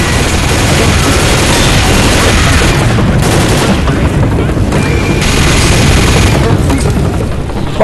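Rapid gunfire and booming explosions fill Left 4 Dead game combat, with dense overlapping shots and blasts that are loud and continuous throughout, and shouted voices mixed in under the barrage.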